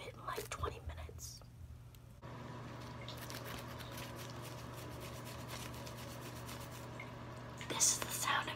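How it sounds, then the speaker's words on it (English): A toothbrush scrubbing aquarium plants, a continuous close rubbing and brushing texture with faint watery sounds, ending in a brief louder splash or clatter. "This is the sound of using your sibling's toothbrush to scrub aquarium plants."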